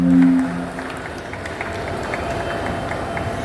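Steady applause from an audience at a movie trailer launch ceremony, a continuous even patter of clapping at moderate distance after a brief voice at the start.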